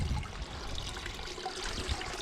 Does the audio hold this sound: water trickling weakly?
yes